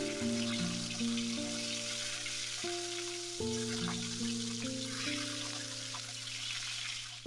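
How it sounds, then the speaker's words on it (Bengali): Fish fry in a pan in a home kitchen, giving a continuous soft sizzle and hiss throughout. Faint steady tones sound in the background. "এবার আমি মাছগুলোকে ভাজতে দিয়ে দিলাম"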